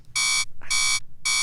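A steady electronic tone in repeated bursts, mimicking a fire alarm built on two notes a minor second apart. Three loud, harsh beeps with short gaps, plus one brief lower blip between the first two.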